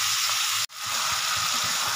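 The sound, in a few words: frying chicken with turmeric and salt in a pan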